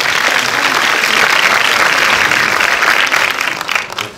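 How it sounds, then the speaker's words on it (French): A cinema audience at a Paris film premiere at MK2 Bibliothèque claps loudly and steadily, a thick crowd applause that thins out near the end. "vous pouvez l'applaudir, merci Bruno."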